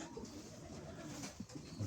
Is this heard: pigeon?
yes